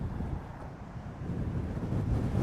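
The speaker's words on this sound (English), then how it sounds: "You can see here how windy it is." Strong wind buffets the microphone at the cliff edge on the Arrieta coast in November, a continuous low roar swelling slightly louder toward the end, with distant surf beneath.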